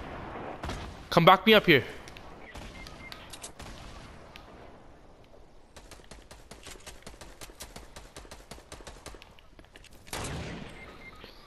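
Gunfire in a video game, bursts of rapid shots and rattling automatic fire heard under excited player voices, with a louder cluster early and sporadic shots throughout.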